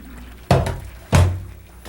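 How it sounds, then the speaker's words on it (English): Two heavy splashing whooshes as water and noodles are dumped into a colander in a sink, each fading quickly, close by. "In the sink I have a colander sitting, so we can drain our noodles very easily."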